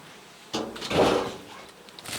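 A wooden Ukrainian-Alpine beehive box is shifted and its lid lifted, making a sudden scrape and a dull knock followed by rustling, hollow wooden handling noise. The sounds are close and moderately loud, with no talking.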